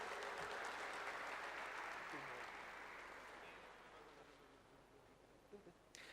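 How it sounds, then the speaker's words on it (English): Audience applause at a hospital health and wellness festival, broad clapping that starts full and gradually fades over six seconds, ending with a few scattered sounds. "A big round of applause, please."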